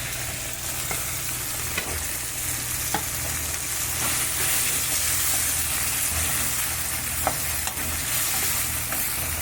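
Onions and tomatoes frying in a pan with green peas for a broccoli curry, stirred steadily: a continuous close sizzle runs throughout, with soft scraping strokes and occasional light clicks of the spoon against the pan.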